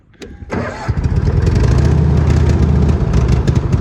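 A Cushman Truckster that has been sitting a while cranks over after a brief click, its starter churning in a loud, steady rhythmic chug as the engine tries to fire.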